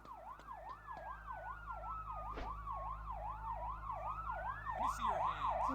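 A police car siren in the video game GTA 5 wails up and down continuously, with a second overlapping siren tone sweeping alongside it. A car engine hums underneath, and the siren grows louder near the end.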